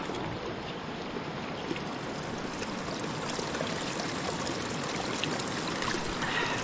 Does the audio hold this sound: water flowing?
yes